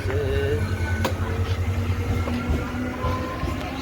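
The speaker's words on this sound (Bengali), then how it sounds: "ট্রেন যাচ্ছে।" A train rolls past a rail gate at a level crossing, a loud, close rumble with rhythmic wheel clatter and a faint horn-like tone, sustained through the short stretch.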